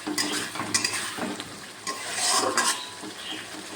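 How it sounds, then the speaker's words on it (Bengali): A paste of ginger, cumin, green chilli and dried red chilli fries and is stirred in a pan with potatoes, giving a loud crackling sizzle broken by scraping strokes of a utensil against the metal. "মশলাটা ভালো করে কষি"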